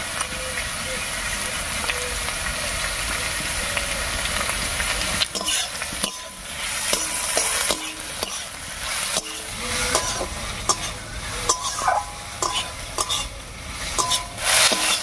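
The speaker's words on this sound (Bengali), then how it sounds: "রসুন আর কাঁচা লঙ্কা দিয়েও একটু রান্না করে নিয়েছি।" Garlic paste and green chilli paste fry with onion in a pan for a Bengali dried fish dish: a dense, continuous sizzle broken by repeated spoon scrapes and clinks against the pot, with a voice audible at times.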